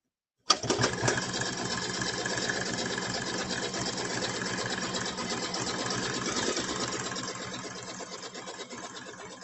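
Embroidery machine sewing a bean stitch on an in-the-hoop project, starting abruptly and running in a fast, steady mechanical chatter that tapers slightly toward the end, heard alone.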